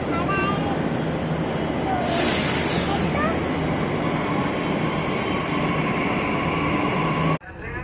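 Metro train running past, a steady broadband rumble with rail hiss and a brief high whine midway, loud and close throughout before cutting off near the end.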